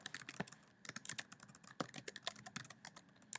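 Quiet, close typing on a computer keyboard: rapid, uneven key clicks in short flurries with brief pauses, nothing else heard.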